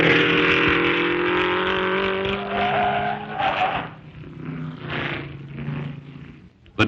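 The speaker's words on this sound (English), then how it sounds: "smaller stock-type cars such as Camaros, Mustangs, and Firebirds compete for a manufacturer's title" Trans Am stock-type race cars such as Camaros, Mustangs and Firebirds roar past in a loud, continuous rush of engine noise, pitch sliding as they go by, fading slightly toward the end.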